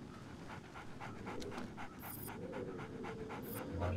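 Dogs panting in Splinter Cell, quick rhythmic breaths repeating close by over a low game backdrop, fairly faint.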